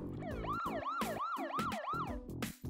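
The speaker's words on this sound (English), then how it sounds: "Ambulance." A cartoon ambulance siren wails in a rapid rising-and-falling loop, repeating about five times over a busy, bouncy background tune.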